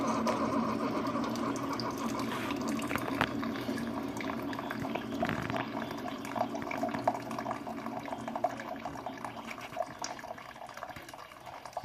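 A Keurig coffee maker hums and churns steadily as its pump pushes water through, a continuous close mechanical whir with gurgling liquid running the whole time.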